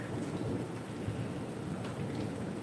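Rain falls steadily outdoors while thunder rumbles low and distant, forming a continuous soft wash of noise with no voices.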